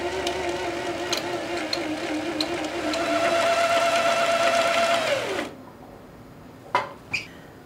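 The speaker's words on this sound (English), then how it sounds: "I'm going to wind my shearing elastic onto the bobbin" A sewing machine motor hums steadily as it winds shirring elastic onto a bobbin, rises in pitch, then spins down and stops, followed by a couple of sharp clicks.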